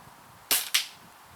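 Two sharp gunshots fired at targets on an outdoor shooting range, with a small .30-calibre gun, about a quarter second apart, loud against quiet background, no talking.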